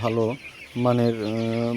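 Sonali chickens in a house of 498 birds give two drawn-out, nasal clucking calls close by, with a short pause between them.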